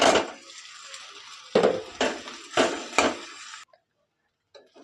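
Cooked leftover rice tipped into a pot of tamarind gojju for puliyogare and stirred, giving a few sharp metallic clinks and scrapes of a utensil against the pot in an irregular rhythm, then quiet.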